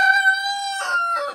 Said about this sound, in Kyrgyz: Тооктор бар экен, жөжөлөрү сатылат.